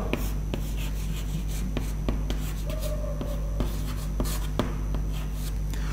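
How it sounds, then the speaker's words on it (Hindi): Marker or chalk writing a name on a classroom board during a history lecture, a steady scratchy stroke sound with periodic sharp taps as letters are formed, close and continuous with no talking. "यहां पर हम नाम लिखेंगे किसका? हरिराज का।"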